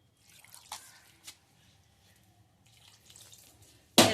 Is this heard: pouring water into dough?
yes